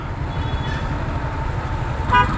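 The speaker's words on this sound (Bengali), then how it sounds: "এই হচ্ছে ব্রাহ্মণবাড়িয়া শহরের" Traffic is jammed in Brahmanbaria town, with a low, steady rumble of engines and a short car horn toot near the end.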